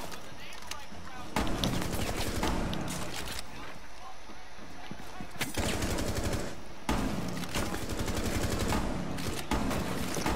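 Rapid gunfire from Twitch's shock drone in the Rainbow Six Siege video game, loud sustained bursts broken by short pauses, with a voice talking over the shooting.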